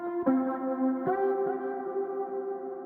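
A few bright synthesized arcade-style notes sound in succession, sustained tones ringing out with an echoing tail, played alone.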